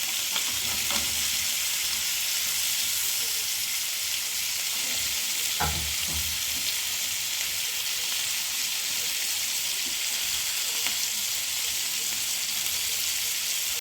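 Chicken breast stuffed with spinach, mushroom and cheese fries in a pan with a steady, close sizzle that runs throughout, broken by a few brief clatters as the pieces are turned.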